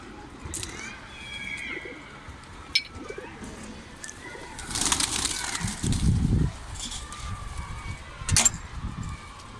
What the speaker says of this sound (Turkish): bayağı bir kuş var.